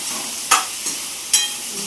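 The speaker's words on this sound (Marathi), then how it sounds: "आता त्याच्यात पलटून झालं का त्याच्यात थोडंसं तेल मारून घ्यायचं लागेल." A spoon stirs homestyle Marathi eggplant bhaji frying in oil in a pan, giving a low steady sizzle broken by two short, sharp scraping strokes about a second apart, close by with no talking.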